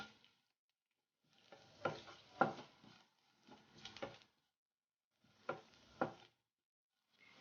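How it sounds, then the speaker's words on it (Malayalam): Chili powder is sautéed on a low flame in a pan for Kerala-style okra stir-fry, with soft scattered scrapes and stirs coming in short bursts separated by near-silence. "അര ടീസ്പൂൺ മുളക് പൊടി ചേർക്കാം. ഇനി ഇതും കൂടി ഒന്ന് വഴറ്റിയെടുക്കാം."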